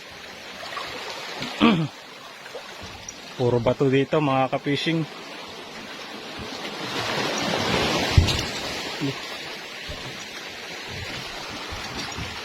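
Big surf washes steadily in the background on the Batangas coast in the Philippines while someone talks briefly over it, with broadband rushing noise building in the middle of the clip.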